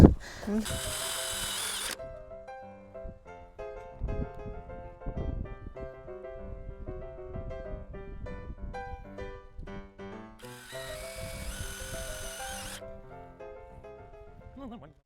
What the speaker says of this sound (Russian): Железо 2 миллиметра не так уж легко сверлится.